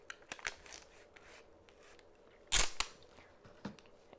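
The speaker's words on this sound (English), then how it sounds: "Now we're going to take our packing tape" Packing tape is pulled off the roll to seal a small plastic pouch for shipping a houseplant. A single loud, short rip stands out among light handling clicks and rustles.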